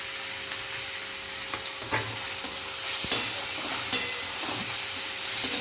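Cabbage and spring onions being stir-fried in a pan for homemade chow mein, a steady close sizzle broken by scraping and tossing knocks, with no voices.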